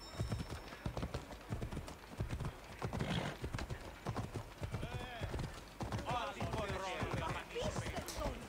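Horse hooves clip-clop steadily in the video game Assassin's Creed Odyssey, a rapid, even clatter close by with an occasional whinny. Someone talks over the hoofbeats throughout.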